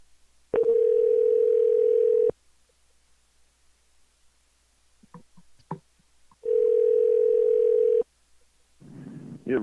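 Phone call ringback tone, two long steady buzzing rings about two seconds each with a quiet gap of faint clicks between them, then a burst of noisy line sound at the end.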